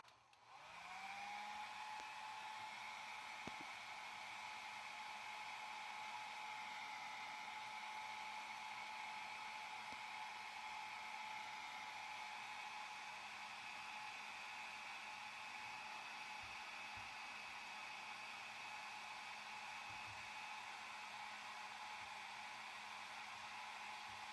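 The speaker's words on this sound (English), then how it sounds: "let's start with the sticker with our hairdryer" A hair dryer heating a price sticker on a thrifted item whirs steadily and loudly throughout, a constant high-pitched motor drone with airy blowing noise and no talking.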